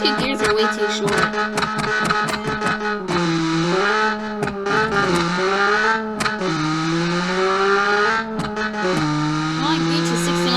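A car accelerates down a quarter-mile strip in the driving game Automation, its synthetic engine note climbing through short gears with repeated shift drops, loud and continuous with sharp clicks over it.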